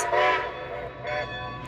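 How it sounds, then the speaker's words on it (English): A Strasburg Railroad steam locomotive whistle in Lancaster County, Pennsylvania, blows in two bursts, a loud tonal blast followed by a shorter second one, heard from a moderate distance. "that whistle means he's going to be headed back now"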